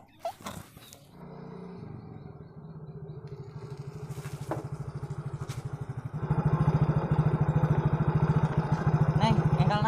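Motorcycle engine starts up and runs, settling into a steady, pulsing idle that grows louder and rougher partway through, close by, after a few brief knocks and voices at the start.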